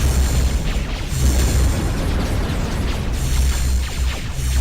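Heavy, continuous rumbling booms of artillery and missile explosions in the strategy game Ashes of the Singularity, loud and overlapping into a dense wall of blasts with no talk.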